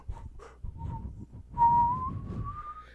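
A woman whistles in imitation of a siren, a rising sustained tone that climbs steadily upward, heard after a stretch of mumbled, low background chatter.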